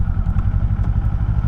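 A Kawasaki Eliminator motorcycle rides in first gear as the throttle opens and closes, its engine giving a loud, close, rapidly pulsing low chug with an uneven throb.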